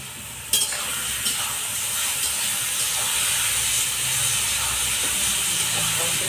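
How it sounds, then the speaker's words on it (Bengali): Onion with ginger, garlic and green chilli paste fries in a pan, giving a loud, steady hiss and sizzle after a sharp clatter at the start, continuing evenly throughout. "পেঁয়াজটা লাল লাল করে ভেজে নিয়েছি, এরপর এর মধ্যে মশলা দিচ্ছি।"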